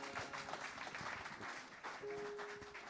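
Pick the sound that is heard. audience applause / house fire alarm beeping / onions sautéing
audience applause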